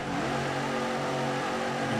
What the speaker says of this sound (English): In 3, 2, 1, burn out! All right, let's do some tyre smoke.